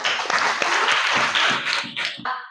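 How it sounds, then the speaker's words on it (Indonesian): Fifth-grade students in a classroom burst into a short round of clapping, dense and bright, holding steady for about two seconds before trailing off. "Tepuk tangan."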